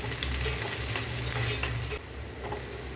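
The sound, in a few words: small onions and curry leaves sautéing in a pan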